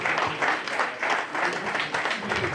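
Audience applause at a formal anniversary ceremony following a speech, a steady, dense wash of many hands clapping in continuous waves throughout, with no voices.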